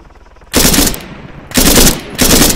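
Automatic gunfire in the military shooter game ARMA 3: three loud bursts of rapid shots, each lasting roughly half a second to a second, separated by short pauses, close and dominant with no talking.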